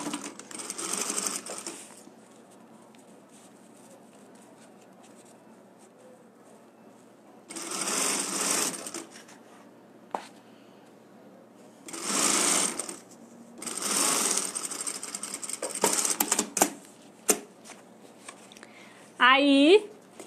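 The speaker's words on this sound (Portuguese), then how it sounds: "Aí vou bater uma costurinha aqui" A sewing machine stitches a fabric wallet pocket with a printed lining, running in several short, close bursts of rapid mechanical whirring separated by quiet pauses, with a brief sound near the end.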